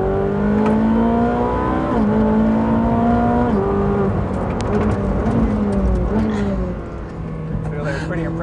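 A Ferrari 458 Speciale engine climbs uphill under hard acceleration, its loud rising whine broken by quick gear shifts at regular intervals, heard from close inside with a driver talking over it.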